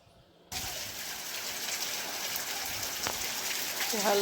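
After a brief quiet moment, a dense, steady hiss of rain begins and continues throughout, growing slightly louder toward the end.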